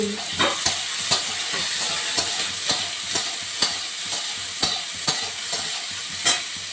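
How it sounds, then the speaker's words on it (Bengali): Potatoes stir-fried in a pan while making pumpkin flower posto, with a steady sizzle and regular scraping strokes of a spatula roughly twice a second, close and fairly loud, no talking. "আলুটা বেশি ভাজবো না একটু ভাজা ভাজা হলে আমি দিয়ে দেবো কুমড়ো ফুল"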